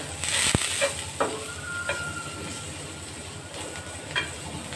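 Cumin and coriander powder being mixed into a pan of frying food, with a steady faint sizzle and a few scattered scrapes and clinks of a spoon against the pan.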